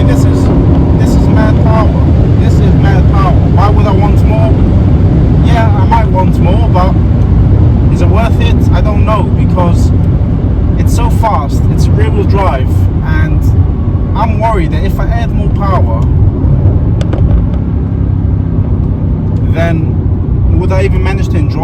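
A Mercedes C63 AMG engine roars loudly and steadily while the car drives along Polish country lanes, with someone talking over the constant drone throughout.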